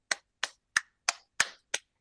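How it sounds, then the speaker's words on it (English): Six sharp, evenly spaced hand claps sound close into a phone, each a crisp isolated smack followed by a short decay and silence. "I'm going to clap into my phone."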